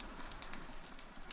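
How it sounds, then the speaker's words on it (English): Rain falls steadily on a roof overhead as a soft, even patter with a few sharper drops standing out, quiet and continuous. "the steady and reassuring sound of the rain on the roof above"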